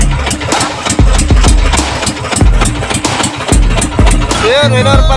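A Filipino bangka boat engine runs loud and close, chugging with a rough, regular rhythm of heavy thumps and a rising whine near the end.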